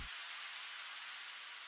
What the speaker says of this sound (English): Some white noise right here.